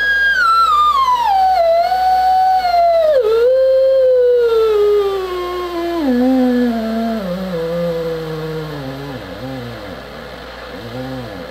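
Ham radio beat tone while tuning toward zero beat: a clear, loud whistling tone that slides steadily downward in pitch over several seconds, wavering as it nears the bottom, over a steady background hiss.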